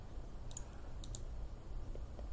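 A computer mouse gives a few faint, light clicks, single and double taps over a steady background hum, with no one talking.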